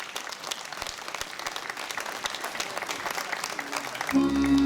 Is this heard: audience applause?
yes